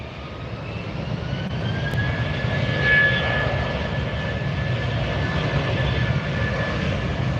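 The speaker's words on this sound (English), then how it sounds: "This is Viva Airlines headed to Guadalajara. Viva Flight 511, an Airbus 320-200 series." Viva Airlines Airbus A320-200 departing a runway at LAX, a steady jet engine roar at a distance with a whining tone that swells slightly mid-clip, no voices.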